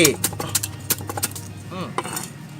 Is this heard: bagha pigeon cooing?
no